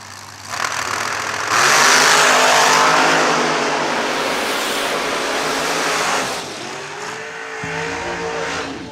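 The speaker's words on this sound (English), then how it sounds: "One quick, single carbureted, blown dragster." A single-carbureted, blown dragster engine roars loudly at a drag race, rising into a sustained, dense high-revving blare that holds for several seconds before easing off, with another engine idling and rumbling behind.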